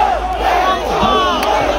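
A festival crowd at an NH7 Weekender metal show in Pune, India, shouts together in unison, a dense, loud mass of voices sustained for just under two seconds.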